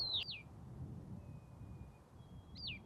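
Two short, bright bird calls, one at the start and another near the end, with quiet outdoor background between them.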